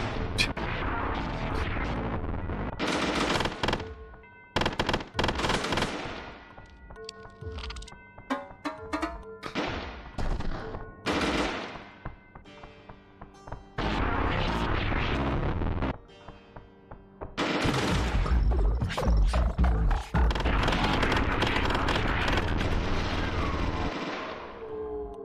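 Grenade blasts and gunfire in the video game Cruelty Squad, a dense, loud run of booming explosions and shots with a few brief gaps, carrying on almost continuously.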